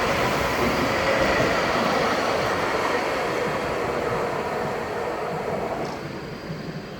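A Nottingham tram pulls away, its steady broadband rumble and rail noise holding loud and close throughout before easing slightly toward the end, with no talk over it.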